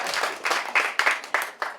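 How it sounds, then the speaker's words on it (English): Scattered audience clapping during a campaign speech by an Iowa Democratic gubernatorial candidate, a few hands striking in uneven bursts roughly every quarter second, moderately loud and brief with no talk over it. "you can clap if you want"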